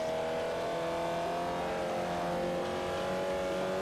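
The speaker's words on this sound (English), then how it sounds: "We're at a little bit of a over rev there." Race car engine in Forza Motorsport 4 holding a high, strained whine at the top of its revs, loud and close, with steady harmonic tones and no talk.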